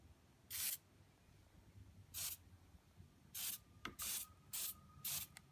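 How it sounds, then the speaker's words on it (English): Short bursts of silicone spray blasted into cups of acrylic paint, about seven separate hissing squirts of uneven length spaced across a few seconds, loud and close with no talking. "I have this silicone right here, and I'm going to blast a little bit into each cup"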